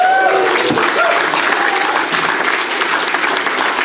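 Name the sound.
audience applause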